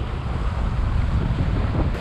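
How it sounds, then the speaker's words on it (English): Strong wind buffets the microphone while fishing beside the water, a loud, continuous low roar and rumble with gusting swells and no speech over it. "It's so windy right now, but it is still super fun."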